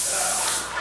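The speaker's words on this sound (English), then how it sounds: "Spraying the trim with air-assisted airless." Air-assisted airless paint sprayer misting trim inside a theatre, a steady close broadband hiss that holds through the whole brief burst.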